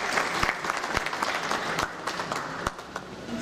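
A ceremony audience in Küçükçekmece applauds as the mayor, Kemal Çebi, is invited to the microphone: dense, steady clapping from many hands with a few sharper claps standing out, sustained loudly through the whole stretch.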